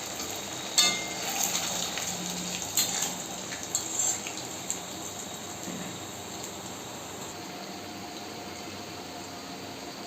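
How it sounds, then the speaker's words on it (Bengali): Stuffed semolina and egg snacks dropped into hot white oil in a wok, a soft bubbling sizzle with a few sharper crackles early on, settling into a quieter steady fry. "এই তেলের মধ্যে দিয়ে আমি এগুলোকে ভেজে নেব।"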